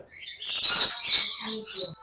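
Ringneck parrots, yellow and white varieties kept at a bird farm in Bangladesh, give loud, harsh squawking calls in two close bursts with a short gap between them.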